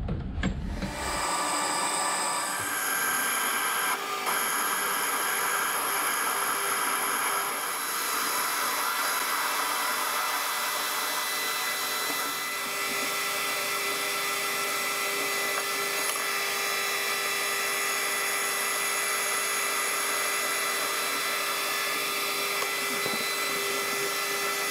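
A metal lathe parts off a pin or bush for a Yanmar excavator, a steady, loud whining cut with high ringing tones that holds for the whole stretch after a brief start, close and unbroken by talk.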